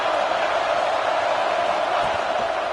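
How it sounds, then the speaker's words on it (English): College football stadium crowd in an Ohio State vs Michigan video game, a steady, dense roar that stays loud and even throughout, with no distinct voices standing out. "this crowd is fired up. Listen to this noise here."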